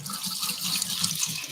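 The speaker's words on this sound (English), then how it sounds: "Rinsing my rice." Tap water running into a bowl of brown rice being rinsed, a steady close hiss of flowing water with soft sloshing underneath, continuous and alone without talk.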